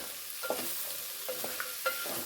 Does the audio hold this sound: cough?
no